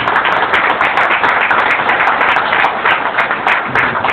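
An audience claps for Akhilesh Edgar at a gathering, a dense, close burst of applause that holds steady for a few seconds without voices.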